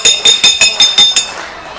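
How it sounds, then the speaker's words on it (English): A wrestling ring bell clangs in a rapid series of about six bright, metallic strikes at a wrestling show, each ringing briefly before the next, then fading into a faint tail. "Ring the bell. Ring the bell."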